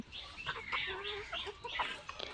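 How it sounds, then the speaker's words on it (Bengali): Domestic desi hens cluck close by in a backyard flock, a busy run of overlapping short clucks and squawks over about two seconds, with no voices. "আমার মুরগিগুলো আপনাদের কাছে কেমন লাগে কমেন্টে জানাবেন"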